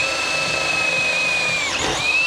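An electric drill spins a hole saw through material while building a custom intake for a turbocharged 3.0 boat engine, a steady loud high whine that holds for about two seconds, dips briefly, then returns.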